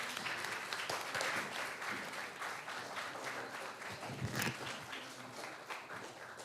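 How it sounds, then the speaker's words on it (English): Audience applause at an award ceremony for a moot court competition: sustained, dense clapping from a crowd, steady throughout at moderate level, with no talk over it. "Let's just fill it with applause."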